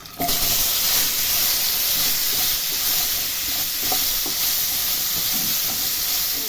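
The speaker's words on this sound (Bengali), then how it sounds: "তেলেই আমি আলু আর পেঁপেটাকে ভেজে নেব।" Potato and papaya pieces fry in hot oil, giving a steady, loud broadband sizzle that runs unbroken for several seconds with a few faint clicks of stirring and no talk.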